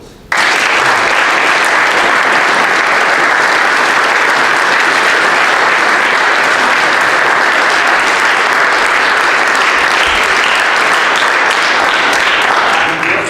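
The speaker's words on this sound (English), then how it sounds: "So that's another round of applause." Sustained, loud applause from a large audience at a military academy leadership lecture, steady and dense from start to finish after a brief quiet opening.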